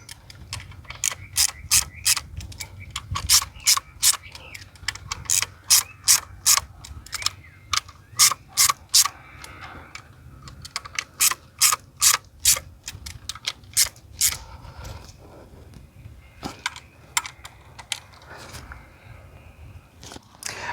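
Ratchet tightening the valve cover screws on a BMW N20/N26 engine, sounding as rapid bursts of close, sharp metallic clicks in repeated runs with brief pauses between strokes, alone with no talking.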